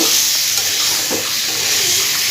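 Minced meat (keema) cooking in a pan, giving a steady loud sizzle and hiss of frying with faint stirring scrapes underneath and no talking.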